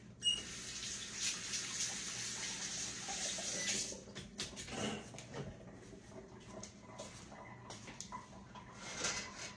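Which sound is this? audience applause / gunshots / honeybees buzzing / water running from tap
water running from tap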